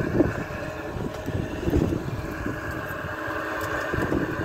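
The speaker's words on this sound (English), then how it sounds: "It's really windy out." Strong gusty wind buffets the microphone outdoors beside a garage air conditioner, a steady loud broadband roar with low thumping bursts throughout, no speech.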